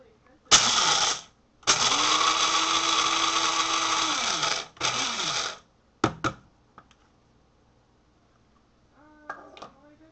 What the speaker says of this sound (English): so now we pour the coffee into our coffee grinder